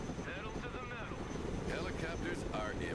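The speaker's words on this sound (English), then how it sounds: "Helicopters are impressive machines. Boy, are they noisy." Helicopters in the real-time strategy game Broken Arrow, a continuous rotor and engine drone under overlapping voices of people talking throughout.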